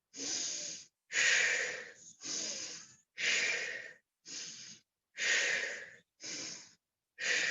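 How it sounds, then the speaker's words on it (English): Exaggerated, forceful yoga breaths at close range: eight loud airy inhales and exhales in a steady alternating rhythm, each about half a second to a second long, separated by brief silences, with no talking. "Taking a couple more of these, really accentuate the breath."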